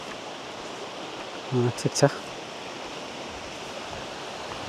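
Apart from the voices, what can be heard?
small stream waterfall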